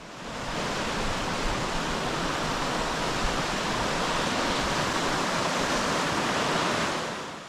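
Steady rushing of the River Wharfe flowing beneath a bridge at Bolton Abbey, a broad, continuous roar of moving water that holds even and close throughout, fading in and out at the ends with no voices.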